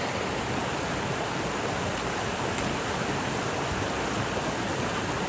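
Cold stream water on the Appalachian Trail, with ice along its banks, rushes and burbles in a steady, close, full-bodied wash of noise that never lets up, heard alone without any voices.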